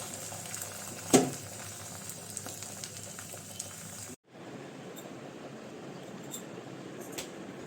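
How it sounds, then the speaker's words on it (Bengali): Oil sizzles steadily on a hot griddle for an egg omelette, a close, even hiss with a brief clatter early on and a short break partway through. "এখন হচ্ছে আদের বাবার জন্য একটা ডিম আমলেট করবো এই তাওয়াতেই তেল দিয়ে দিছি"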